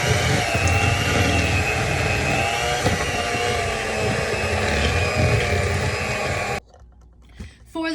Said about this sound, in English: you will beat that with a mixer until creamy and smooth